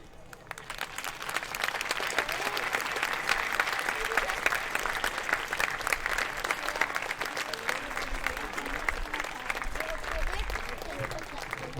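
A school audience applauds storytellers after their performance at a senior school day event, dense sustained clapping filling the hall for several seconds before tapering slightly near the end.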